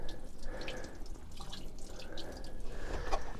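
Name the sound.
water draining from Nautique boat hoses into bilge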